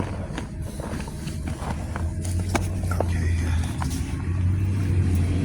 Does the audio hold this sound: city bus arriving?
yes